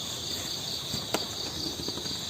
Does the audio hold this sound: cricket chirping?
yes